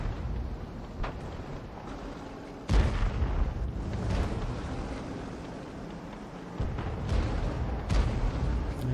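Artillery fire in World of Tanks, with a heavy shell-launch boom partway through, further dull thuds and distant booms, all set over a constant low rumble of battlefield noise.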